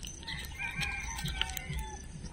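A heavily pregnant hen, close to laying an egg, gives a few soft, low clucks over steady farmyard background noise, with fowl calls and sharper chirps scattered through; no one speaks.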